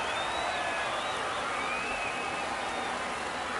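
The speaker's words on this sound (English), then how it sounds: "the Albuquerque crowd is going nuts" A stadium crowd in MLB The Show roars in a steady, dense wash of cheering and applause after a home run at an Albuquerque Isotopes game, sustained and loud without letup.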